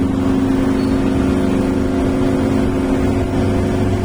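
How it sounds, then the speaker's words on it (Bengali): Steady traffic rumble drifts up from a city street five storeys below, continuous engine drone with a low hum and no distinct passes standing out. "রাস্তায় গাড়ি যাইতে আছে"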